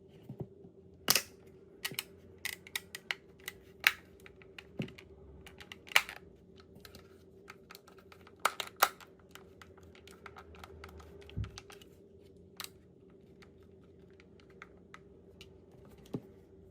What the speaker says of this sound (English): align both halves of the controller housing and carefully press around the perimeter until all of the clips snap